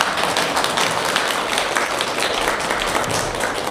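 An audience at a Buddhist dharma service at Jogyesa temple breaks into loud, dense applause, with many hands clapping steadily and close for the whole stretch.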